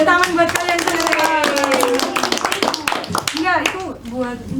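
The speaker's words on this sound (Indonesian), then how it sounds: "Beri tepuk tangan buat kalian semua." Students in a classroom clap together in a quick burst of rhythmic hand claps, heard close and mixed with children's chatter and speaking voices.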